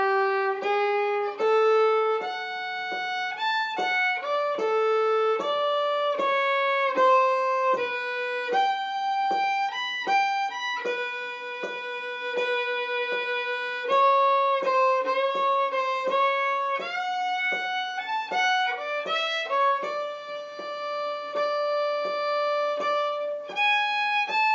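Solo fiddle plays the A part of Peacock Rag, a bright, clear run of sustained bowed notes moving stepwise in a lively fiddle-tune rhythm, close and steady throughout with no talking.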